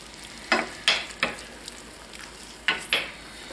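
Hot sauce from a whole jar simmering down in a pan for tacos, a low steady sizzle broken by several sharp bursts of spatter and stirring scrapes, close and alone.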